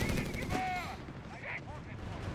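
Bursts of gunfire and artillery rattle across a Company of Heroes 3 battlefield, sharp cracks and booming thuds densest at the start, then a thinner scatter of distant shots over lingering rumble.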